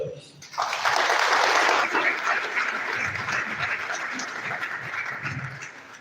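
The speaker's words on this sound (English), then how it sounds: "another round of applause for the chairman, Professor Jelani" Audience applause at a university lecture event honouring a chairman, a broad steady wash of clapping rising after a brief lead-in and sustained for several seconds, with some crowd voices mixed underneath.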